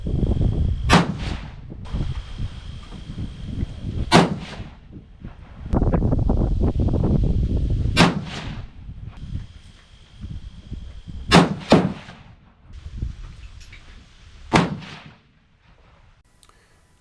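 A 6.5 PRC rifle fires Hornady 153-grain A-Tip loads over 58.3 grains of Retumbo powder outdoors. Several sharp, loud cracks are spaced a few seconds apart, with wind rumbling against the microphone between them.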